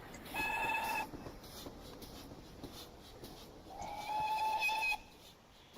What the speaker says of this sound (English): Oh, screechy whistle.